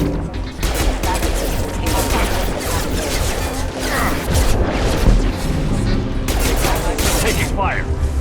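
Dense gunfire in a firefight against security mechs in the game Mass Effect 2, rapid overlapping shots and impacts with crashes and booms, loud and continuous, with voices talking over the battle.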